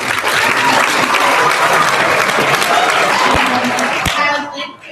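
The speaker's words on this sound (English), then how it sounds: "just stand up and we'll clap for you" An audience at a student convention closing session applauds for a nominee in a sustained wash of clapping, loud and dense, before it tapers off near the end; a voice briefly sounds beneath it.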